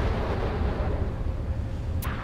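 Naval close-in defence weapon fire in Sea Power, Phalanx CIWS or RIM-116 RAM launcher, a continuous loud roaring blast with a brief high whoosh near the end.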